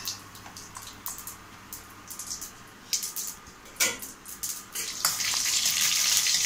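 Mustard seeds popping in hot oil alongside cloves and cinnamon for a spiced soup, irregular sharp crackles and spits over a soft hiss that swells into a denser sizzle toward the end.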